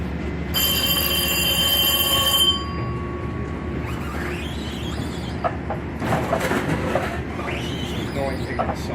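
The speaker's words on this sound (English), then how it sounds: "This train's just hanging out over here. It didn't depart or anything." A Metro-North Hudson Line train sits idling at night at Croton-Harmon station, a loud steady rumble with high tonal whine early on, followed by scattered clanks, squeals and faint bird chirps.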